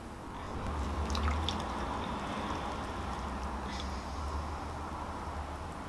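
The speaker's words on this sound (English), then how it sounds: "Sloshing it in the water is definitely helping." Water sloshes and drips steadily around a hornbeam bonsai's air layer being rinsed in a container, a soft continuous wet wash with faint dripping throughout.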